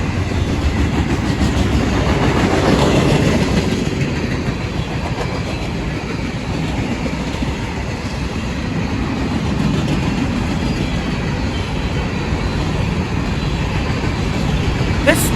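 Freight train rolling past at Control Point Sugar Land, a loud, close, continuous rumble with wheel clatter and rushing noise that holds steady through the whole stretch.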